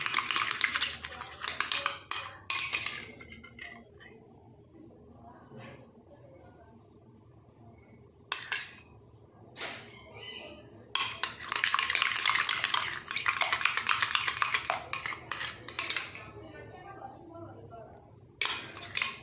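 A homemade face pack is stirred in a bowl, giving bursts of scraping and clinking that come and go, separated by quieter stretches.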